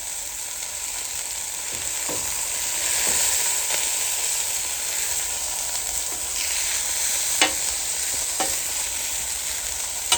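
Smash burgers sizzle steadily on a Callow four-burner gas plancha, a continuous close hiss with occasional sharp scraping clicks from a spatula, no talking.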